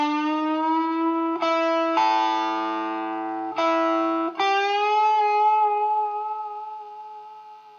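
An electric guitar with distortion plays a slow, sustained picking pattern, its notes bending up and back down with held pitches and a few changes of string, loud and steady with no talking.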